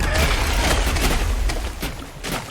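A loud blast in the flooded district of Dishonored kills a group of river krusts, a heavy booming roar that fills the whole moment and rolls on with crackling debris.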